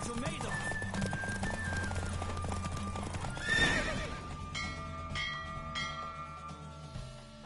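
Hooves clip-clop at a gallop during a horse race in The Witcher, with a horse neighing midway, a bell-like tone and a voice speaking over the steady pounding rhythm.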